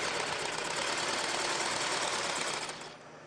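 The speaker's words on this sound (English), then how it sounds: "Right now I'm sewing the top and bottom panels together" Sewing machine stitching the top and bottom panels of a Super Bowl football together, a dense continuous mechanical whir, close and loud, that slows and fades in the last moment.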